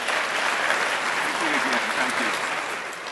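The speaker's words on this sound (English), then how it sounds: "And let's give Congressman Micah a warm round of applause." A keynote audience gives a congressman a warm, sustained round of applause, dense and loud throughout, with a faint voice briefly under the clapping.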